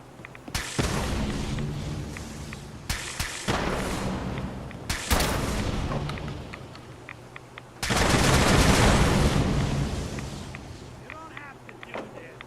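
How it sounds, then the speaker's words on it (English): A gamma gun fires in a Fallout video game as a series of loud, sharp blasts followed by rumbling bursts, with a voice talking over part of the gunfire. "shooting that gamma gun at them"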